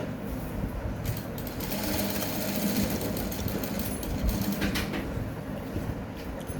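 Sewing machine stitching a stretched elastic band onto the back of kids' shorts, its steady mechanical whirring running continuously at close range with no talk.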